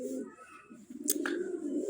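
Pigeons cooing softly on a farm, low rolling coos in a quiet setting with a brief faint chirp midway.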